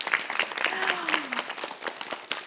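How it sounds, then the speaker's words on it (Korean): Studio audience in a Korean lecture show bursts into applause, a dense, steady patter of many hands clapping close by, with a voice briefly speaking over it. "자 박수를 치고 싶은"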